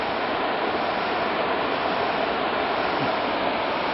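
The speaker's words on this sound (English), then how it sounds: "There's the creek down below there." A creek rushes steadily far below a rocky scree slope, heard as a constant broadband wash of flowing water with no breaks and no voices.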